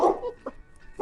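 A dog gives a short bark followed by a couple of faint, brief yips, heard close and alone.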